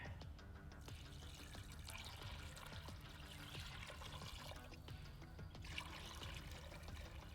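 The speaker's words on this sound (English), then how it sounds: "I definitely want to put some more water in here." Water pours steadily into a container at a bushcraft camp, a continuous trickling flow heard close up and alone, with no voices.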